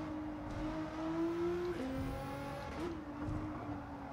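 Nissan GT-R race car in Gran Turismo 7 on the Tokyo Expressway circuit, its engine holding a loud, steady high-revving drone with quick pitch jumps at gear shifts, continuous throughout.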